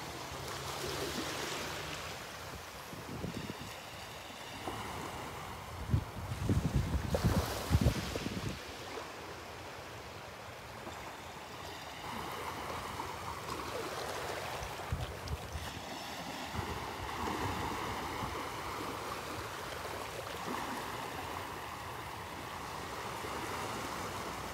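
Steady east-northeast breeze rushes over a beach at Delnor-Wiggins, with waves washing in continuously and a few louder, closer bursts of wind buffeting around the middle.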